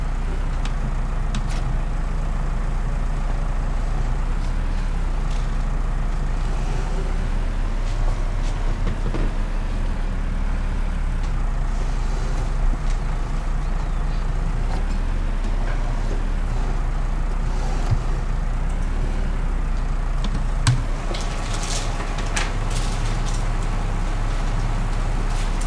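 A tractor engine in Farming Simulator 19 drones steadily throughout with a low, continuous rumble, its pitch rising and falling slightly as it drives, with a brief louder clatter near the end and no talking.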